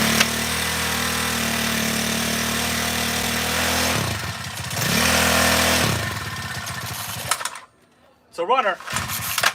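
A small nitro RC car engine runs with a buzzy, steady drone that dips and revs, then cuts out briefly before sputtering back to a rough idle, recorded up close.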